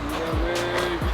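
Tires squeal as a retired police interceptor car spins donuts, a loud, close screech wavering over a revving engine in a short burst.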